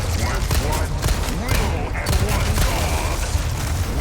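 Gunfire in Resident Evil 4 Remake, with rapid, loud bursts of shots and booming impacts crowding one another in dense succession, while players talk excitedly over the shooting.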